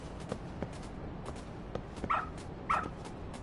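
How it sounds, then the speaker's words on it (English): A dog barks in the Lost Judgment video game, giving two sharp, fairly close barks a little over half a second apart. They rise above a steady background hum with soft thumps. "Good dog. Very good dog."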